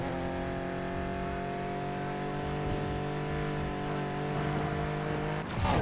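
A McLaren P1 GTR racing in Need for Speed Heat gives a steady, loud engine drone with strong harmonic lines, held high for about five seconds before a sudden shift near the end.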